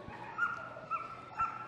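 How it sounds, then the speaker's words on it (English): A police dog at a West Midlands Police display at Crufts barks in three short bursts spaced about half a second apart, moderately distant and faint against a background of crowd ambience. "We want the dog to bark for it."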